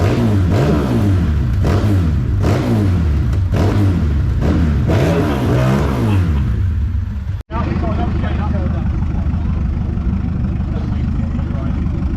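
A car engine revs hard and loud in a sound-off at Petrolhedonism Live 2024, with repeated rising and falling rev sweeps over the first seven seconds, then a steadier roaring drone as people talk over it.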